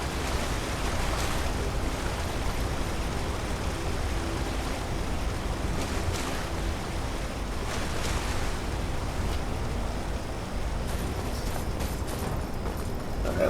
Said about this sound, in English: this is the waterfall on top of the lake